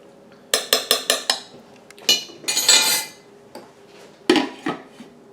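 A utensil clinks rapidly against a crockpot dish while spices are mixed into raw chicken, a quick run of sharp taps followed by scraping strokes and a few more scattered clanks, close and clear with no talk.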